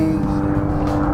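A steady, loud drone from an airplane passing overhead in an outdoor yard, holding an even tone with a constant rumble for the whole moment.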